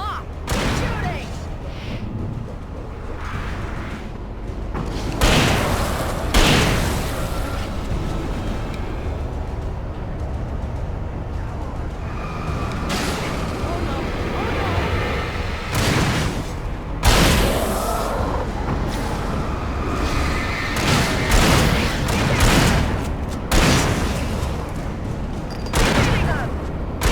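Video game gunfire from Alan Wake: repeated loud shots and bursts over a continuous noisy action soundtrack, with heavy booms near the start, middle and end, while a voice talks throughout.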